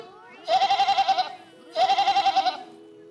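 A goat bleats twice, each call a loud, wavering, pulsing cry lasting under a second, separated by a short quiet pause.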